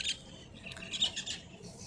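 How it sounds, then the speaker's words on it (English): Squeaky birds at Iguazu Falls national park in Brazil, in the morning: a few shrill squawks and chirps, one sharp call at the start and a cluster near the middle, moderately distant over a soft ambient hum. "I can already hear some squeaky birds upon arrival"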